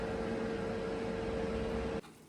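Oven running while potatoes bake, giving a steady electric hum with a clear tonal whine that cuts off abruptly near the end, leaving near-silence.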